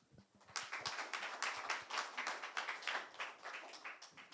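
An audience at a Korean forum applauds to welcome an arriving guest, with brisk, fairly close clapping of a modest group that starts suddenly and keeps an even, rippling pace throughout.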